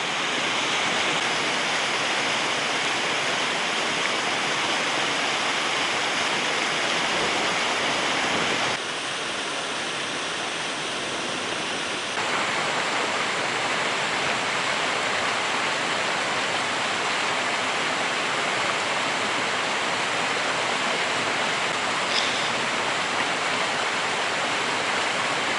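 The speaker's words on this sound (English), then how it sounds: "So that water is well boiling now." Water boils vigorously over a campfire outdoors, a steady dense bubbling and rushing hiss that continues unbroken and fairly loud with no talk.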